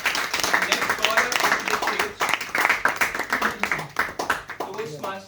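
An audience at a farewell ceremony clapping in a dense, steady burst of applause that lasts throughout, with voices mixed in underneath.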